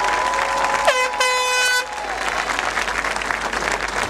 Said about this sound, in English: Please join me in giving them a round of applause for their service to dear Langston.